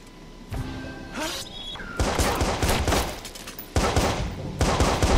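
Gunfire in the Watch Dogs: Bad Blood video game: a flurry of loud, sharp shots and bursts crowds together, with short gaps and a few thuds between volleys.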